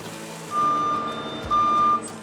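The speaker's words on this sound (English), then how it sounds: "Trucks from Deseret Transportation are crisscrossing the country" A Deseret Transportation truck sounds its reversing alarm: two long steady high beeps, about half a second each with a pause between, over a low engine rumble and background noise.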